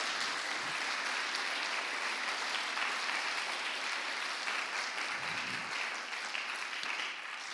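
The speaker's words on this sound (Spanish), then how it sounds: "Denle un aplauso al Señor, porque en Cristo Jesús hay esperanza." A church congregation at a Sunday service gives loud, continuous applause. The clapping stays constant and full for the whole stretch with no talking over it.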